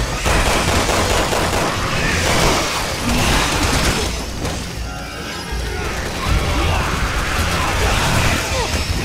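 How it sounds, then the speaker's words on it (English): Continuous loud enemy gunfire in Resident Evil 6 co-op play, dense rattling bursts with mechanical clatter that barely lets up, a brief dip midway, with faint talk beneath. "Shooting at us, they're helping us."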